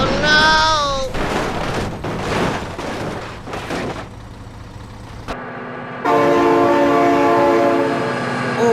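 In the BeamNG driving game, a train rumbles past amid bursts of chaotic crashing noise, then a loud sustained horn blares for several seconds near the end, with a brief break before it.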